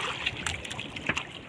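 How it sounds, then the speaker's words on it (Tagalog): Strong sea waves slap and splash against a small fishing boat in short, uneven bursts, close and moderately loud over a steady wash of water. "Malakas ang alon."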